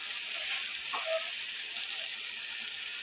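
Koi fish sizzling in hot frying oil, a soft steady hiss with a brief louder crackle near the start, quiet and close, without speech.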